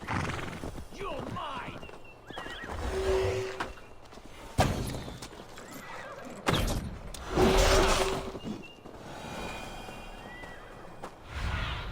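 A horse in Assassin's Creed Valhalla neighs loudly twice amid clip-clopping hooves and sharp combat hits, with game ambience and a voice talking throughout.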